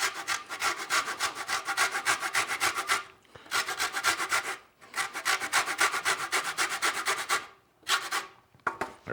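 Lime and lemon rind is zested for chicken marmalade with rapid, steady rasping strokes close up. The scraping comes in long runs broken by short pauses, loud and dry, with no talking.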